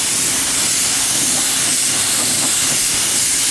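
A paint sprayer applying dark gray paint gives off a loud, continuous, close-up hiss that holds steady for a few seconds without a break.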